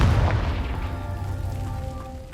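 A Confringo blasting spell explosion in Hogwarts Legacy lands as a single close boom that quickly fades into a lingering low rumble and ringing tail.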